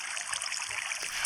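In Minecraft, flowing water makes a soft, steady hiss like a gentle stream trickling. It ends in a brief, brighter splash-like burst.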